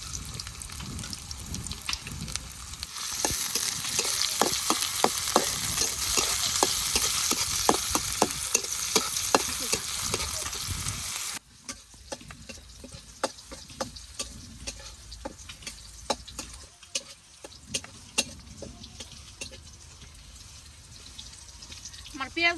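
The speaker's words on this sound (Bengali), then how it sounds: "আমার পেঁয়াজ ভাজা হয়ে গেছে," Onions fry in oil in a wok with a bright, steady sizzle and repeated stirring taps. Partway through the sizzle drops to a quieter background while clicks and clinks go on.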